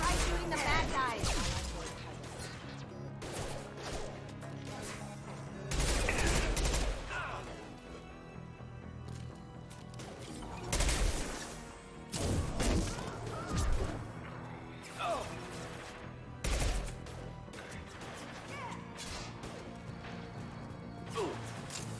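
Gunfire and impacts from the sci-fi shooter Mass Effect 2, repeated bursts of shots and heavy crashes spread across a long stretch, fairly faint, with a voice talking at times amid the combat.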